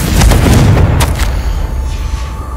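Confringo spell explosion in the Hogwarts Legacy video game: a single deep booming blast up front, followed by a few sharp crackles and a fading rumble, loud and alone.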